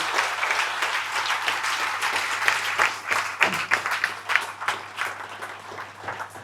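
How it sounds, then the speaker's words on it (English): Applause breaks out for three employees at a monthly company meeting, a full room clapping steadily, growing more uneven with scattered louder claps and faint voices as it tapers off. "just a big round of applause for those three"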